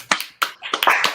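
A few people clap in short, uneven bursts, about six sharp, close hand claps over a second with brief gaps between them, no talking.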